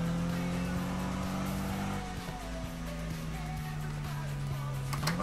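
Car engine in a Need for Speed game, a steady droning hum that dips slightly partway through and then climbs again, with a continuous road roar underneath.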